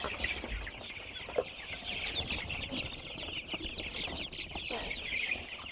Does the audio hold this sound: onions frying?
no